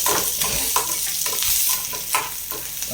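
Spinach greens sautéing in a pan for a simple keerai kuzhambu, with a steady sizzle and repeated scraping stirs in an irregular rhythm, close and fairly loud, without talk.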